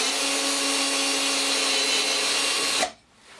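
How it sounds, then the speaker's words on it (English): A power drill runs in reverse to back a tap out of a drilled hole, a steady high motor whine with a strong tonal hum lasting nearly three seconds before it abruptly cuts off. "and reverse the tap out of there"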